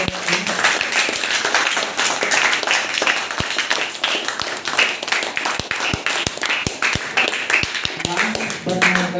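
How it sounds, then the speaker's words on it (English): Audience clapping at a school inter-class debate competition, a steady round of applause from the room with a voice speaking over it at times. "Please give the big round of applause for"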